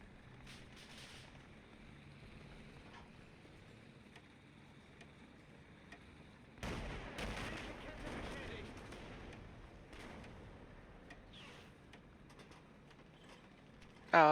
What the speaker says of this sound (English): I don't see who's shooting at me